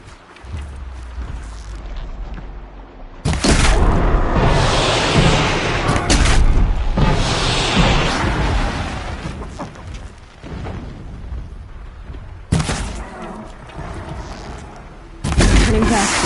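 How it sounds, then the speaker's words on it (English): Distant explosions rumble in the video game Horizon Zero Dawn, a few deep booms and bursts separated by quieter stretches, fairly loud but with a far-off, rolling character. "Explosions in the distance."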